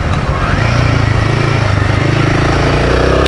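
A Royal Enfield Himalayan 450 motorcycle engine running while riding, a loud steady throbbing drone with rising pitch under heavy wind rush, close and continuous.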